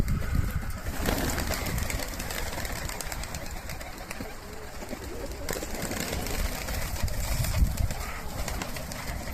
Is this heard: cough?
no